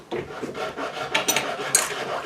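Two wax rubber-dipped wrenches scrape and clink against the collet and shaft of a Drill Master router holding a 1/2 inch straight cut bit, making short metallic rubbing and tapping sounds close by.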